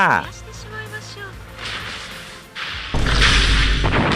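Loud explosion in the video game Echocalypse bursting out near the end, a heavy broadband blast following earlier thuds and whooshing effects, with a voice talking over the action.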